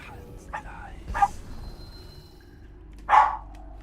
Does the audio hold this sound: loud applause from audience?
no